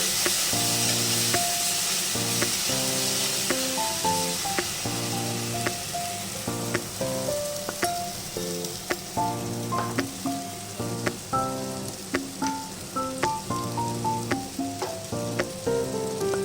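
Food sizzles steadily in a hot pan while being stirred, a continuous frying hiss with occasional scraping strokes, accompanied throughout by background music.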